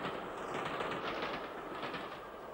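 LMS Jubilee steam locomotive hauling a train with two horse boxes at the rear on the Midland main line, heard as a steady, moderately distant rolling rumble and clatter of the passing train, with no voices.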